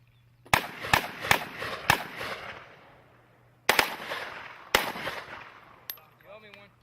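AK-47 or AK-74 rifle fire at an outdoor shooting drill: sharp, loud individual shots in two quick groups of four and then two, each trailing off in a long echo, with a voice faintly at the end.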